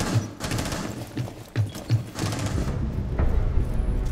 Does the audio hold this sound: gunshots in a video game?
yes